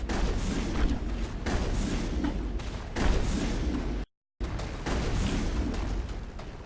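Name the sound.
enemy gunfire in Mass Effect, video game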